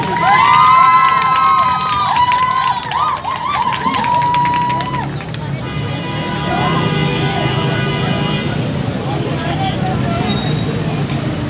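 Crowd at a Pakistani prize-draw event for umrah tickets cheering and shouting loudly, a dense, continuous roar of voices throughout with whistles or shrill tones early on.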